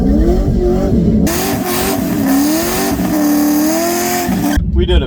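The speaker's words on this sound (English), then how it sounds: "We did a bigger burnout on that one." At a street car takeover event, a car does a burnout with traction control off: a loud, close engine revs and howls over screeching tires for several seconds, with people shouting around it.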